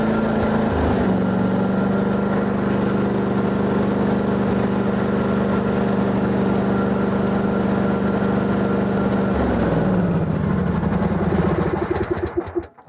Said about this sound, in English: you need to run your engine to warm up the oil.